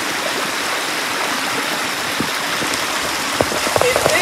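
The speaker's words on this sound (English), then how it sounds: "The main river goes that way and these two join up." A storm-fed river flows close by with a steady, full rushing and splashing of water that continues throughout, with a few louder splashes near the end.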